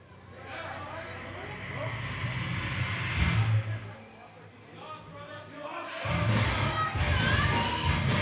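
Wrestling arena crowd roars and murmurs in a loud, echoing swell that rises and dips, with commentators talking over the noise.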